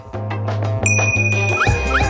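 A school bell rings in a classroom cartoon, with bright ringing tones over a steady low hum and soft rhythmic knocks; no one speaks.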